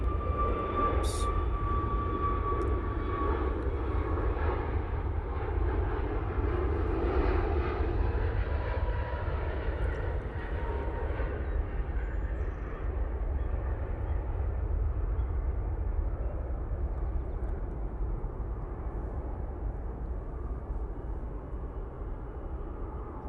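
A Dassault Falcon business jet taxies at Manchester Airport with a continuous engine rumble and whine that swells midway and then gradually eases, heard alone without talk.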